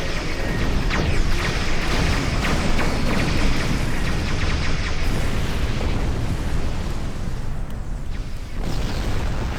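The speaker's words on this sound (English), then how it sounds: "That was a pretty intense explosion." A starship explosion in the space game Star Trek Online bursts into a dense, loud roar of crackling debris and rumble that sustains for several seconds with a few sharper pops and shifts in texture.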